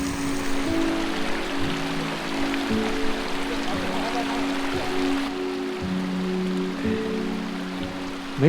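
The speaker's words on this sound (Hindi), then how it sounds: "मिड पॉइंट होटल के बिल्कुल साथ एक छोटी सी वाटर स्ट्रीम है" A small water stream runs right beside a midpoint hotel on the Fairy Meadows to Beyal Camp trek below Nanga Parbat. It makes a steady, close rushing babble that holds at an even level throughout, with no voices.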